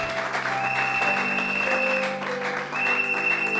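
A church congregation at a Sunday service applauds in praise of the Lord, a dense, sustained clapping that fills the room over held musical tones.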